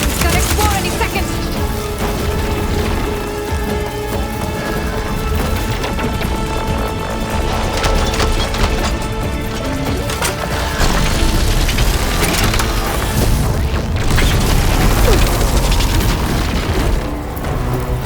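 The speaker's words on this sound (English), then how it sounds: "It's gonna explode any second." A machine exploding in the action game Horizon Forbidden West, with dense, loud booming and splintering crashes that roar on continuously with no pauses.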